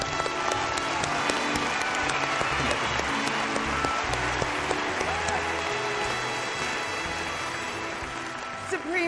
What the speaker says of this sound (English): let's give our 6 charities and special guest presenters a round of applause,